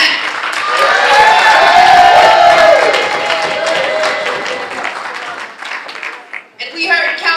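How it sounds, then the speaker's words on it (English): Audience at a Women's Day event in New York applauds loudly and steadily, with crowd murmur and voices rising through the clapping before it thins out near the end. "And so let's applaud Andrea Stewart Cousins in her absence."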